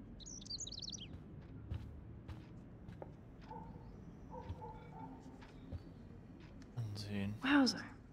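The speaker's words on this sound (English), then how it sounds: "Oh, look at the poor bird." A small bird chirps in the video game Life is Strange: a quick burst of high, twittering calls opens, then quiet ambience and a second sharper flurry of chirps near the end, with faint voices in between.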